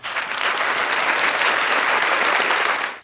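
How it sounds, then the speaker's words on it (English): A studio audience on a talk show claps for a special guest, a steady wash of applause that holds for about three seconds before cutting off abruptly. "Let's give her a round of applause"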